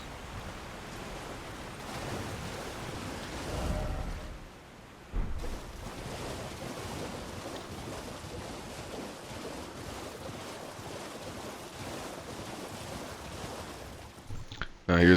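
A waterfall in Elden Ring Shadow of the Erdtree, in the Stone Coffin Fissure area: a constant broad rushing roar of falling water that continues beneath a voice talking throughout.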